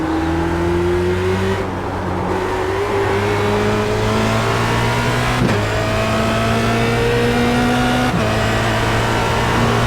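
A race car engine in a racing sim revs steadily through a corner sequence, its tone shifting with gear changes around the two-, five- and eight-second marks, loud and continuous with no talk.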